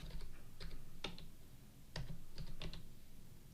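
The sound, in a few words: typing input on a computer keyboard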